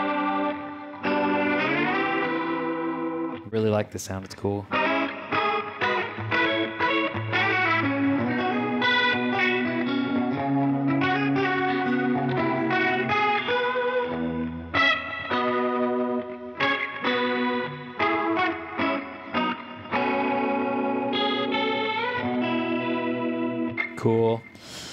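A Roland GP-16 guitar effects processor set to chorus mode 4 spreads a shimmering, wide stereo chorus over sustained electric guitar chords and picked notes, playing steadily throughout with a brief spoken comment near the end.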